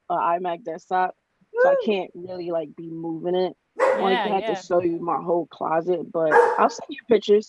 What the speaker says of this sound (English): My dog's barking because there's,